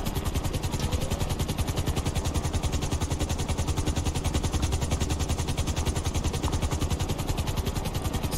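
Steady helicopter rotor chop and engine whine in GTA 5, a fast even thudding pulse that runs unbroken and loud throughout, with no talking.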